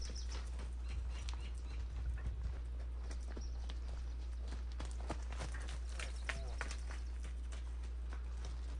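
A horse of an ancient breed said to precede the Arabian, here as a client horse for training, walks with steady, fairly close clip-clop hoofbeats, sharp irregular clicks over a low constant hum.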